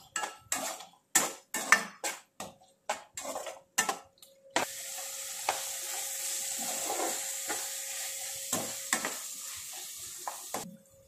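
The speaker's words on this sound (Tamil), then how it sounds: "இதில் கிண்டிடலாம்." Prawns and salt stirred in a cooking pot: a run of sharp spoon clatters against the metal, then a steady, close frying sizzle punctuated by occasional scrapes.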